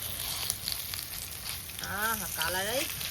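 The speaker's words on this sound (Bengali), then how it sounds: "এইভাবে বড়াগুলো ভেজে নেব" Malabar spinach (pui shak) fritters fry in hot oil in a wok with a steady, close sizzle throughout, joined briefly by a short voice-like tone near the end.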